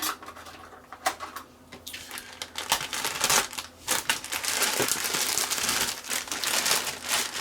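Plastic bag holding Eduard 1/48 Typhoon model kit parts being cut and pulled open with a knife, close crinkling and rustling of plastic in bursts that turn steady and busy.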